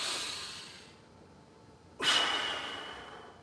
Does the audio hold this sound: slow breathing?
yes